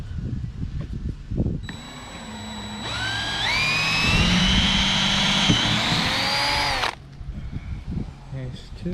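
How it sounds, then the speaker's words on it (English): A power drill whines steadily for about five seconds, pitch rising as it bites into metal drilling bolt holes for a carbon fiber wing on a 2021 Toyota Supra, with brief talk and clatter before and after. "It's time to drill the final hole."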